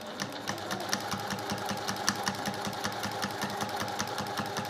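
A sewing machine stitches either side of a quilt seam, running steadily with a fast, even needle rhythm up close and no talk.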